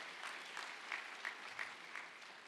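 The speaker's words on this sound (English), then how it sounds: "Another round of applause, please" Faint, distant audience applause at an IAC finals competition, a steady patter of clapping with a few sharper individual claps standing out, heard alone without talk.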